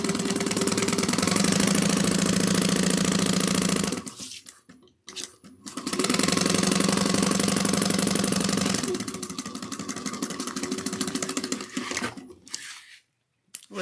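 A sewing machine back stitching the seam of a fabric trick-or-treating bag, running in two loud sustained bursts with a brief stop between them and a faster, lighter patch toward the end; close by, with no voices.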